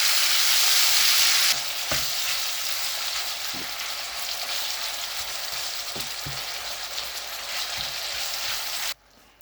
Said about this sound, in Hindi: यानी कि कीमा ऐड कर देना इस तरीके से, और इसको 5 मिनट के लिए आपने इसी तरह ही पकाना है।